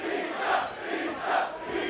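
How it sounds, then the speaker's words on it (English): A wrestling crowd at a Juggalo Championship Wrestling show cheers and roars loudly, a dense swelling wave of voices with no commentary over it. "Crowd going nuts for pizza."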